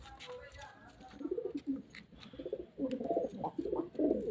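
Pigeons coo softly in a loft, a low, murmuring run of calls that swells and overlaps toward the end, faint and somewhat close, with someone speaking over them.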